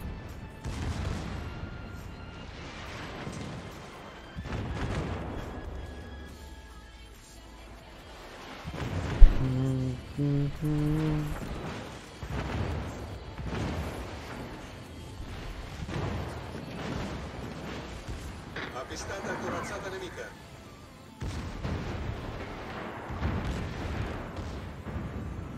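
In the game World of Warships, Italian battleship Cristoforo Colombo trades heavy naval gunfire, with deep booming salvos and rumbling blasts rolling through the mix at moderate loudness, with game sounds throughout and a voice speaking intermittently.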